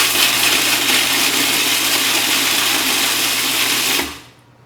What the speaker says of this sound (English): I'm just gonna grind these up a little bit right now